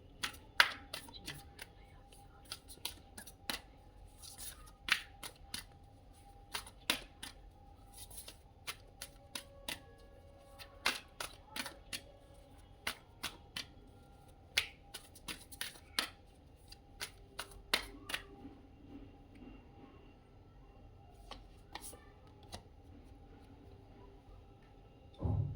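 Tarot cards shuffled by hand and drawn from the deck, a series of soft, crisp clicks and flicks at an uneven pace, close by in a quiet room with faint background hum.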